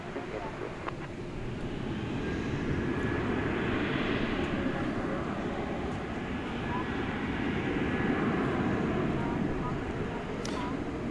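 A plane passing over DFW airport at night, a steady broad engine roar holding throughout, with people talking faintly underneath.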